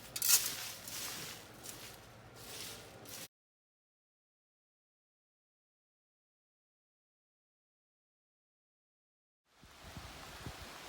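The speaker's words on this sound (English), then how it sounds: "And go figure, there's some more rain." Steady rain falls outdoors in autumn over a garden yard, a soft hissing wash heard briefly at the start, cutting to silence, then resuming near the end.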